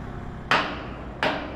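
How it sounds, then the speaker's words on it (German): A large hammer driving a bolt into the folding mechanism of a fast ferry on the Baltic route to Sweden: two loud, sharp metallic blows about 0.7 seconds apart, each ringing briefly over a steady background hum. "Ein ziemlich großer Hammer für Millimeterarbeit."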